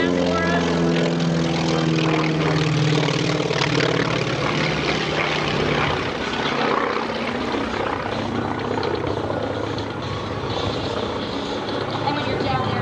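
A T-28 Trojan warbird flies a pass at the EAA AirVenture airshow, its loud, steady propeller-engine roar holding throughout, with a low drone shifting in pitch partway through as the plane goes by. Voices carry over it.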